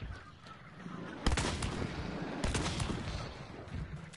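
Gunfire in a video game shooter: a sharp, loud shot cracks out, then a sustained barrage of dense firing follows, with a second heavy blast partway through, set against a busy game backdrop.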